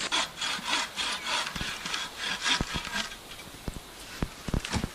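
A bow saw cutting through a small tree in a snowy setting, with rhythmic rasping strokes of the blade through wood mixed with a few sharp cracks and knocks, fairly close.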